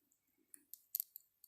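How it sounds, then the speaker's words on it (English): Small hummingbird-shaped scissors snip tiny pieces of paper for a circle ornament pocket, giving a few quiet, crisp clicks spaced irregularly over a near-silent background. "Just clipping those little tiny pieces away"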